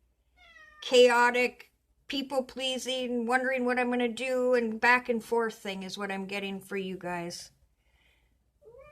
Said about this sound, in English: And I'm sorry about the cat.